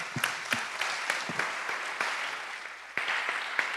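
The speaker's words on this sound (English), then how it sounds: "I think we should give all the previous panelists a big round of applause again" An audience applauds panelists at a Social Good Brasil talk, with individual claps standing out in a modest, uneven round of applause throughout.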